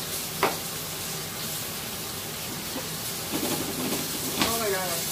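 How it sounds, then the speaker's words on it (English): Ribeye steak with thyme sizzling in a hot pan as it is basted, a steady frying hiss with a few sharper crackles and spits. "now it's time to baste it"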